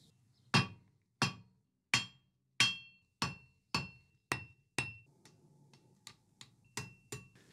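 Hammer blows on hot metal while forge welding a metal leaf onto a bulrush sculpture: about a dozen sharp, ringing strikes at a steady pace, the later ones lighter and quicker, each decaying with a metallic clang.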